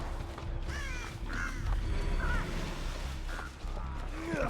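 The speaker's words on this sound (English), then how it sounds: "Freaking crows, man." Crows cawing in the Dead by Daylight video game, several harsh calls spaced across the stretch over a steady ambient drone, with some faint background voice.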